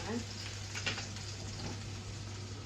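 Eggs with tomato paste fry in a pan, making a continuous close crackling sizzle with small pops scattered through and a low steady hum underneath.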